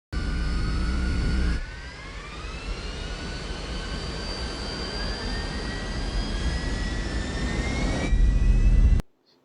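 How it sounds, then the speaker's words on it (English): An Airbus A320 jet engine whines and roars as it spools up, rises to a steady level, then climbs higher toward full takeoff power, loud and sustained. "the engine spooled up to a certain level, stabilized, and then spooled up further to the final setting"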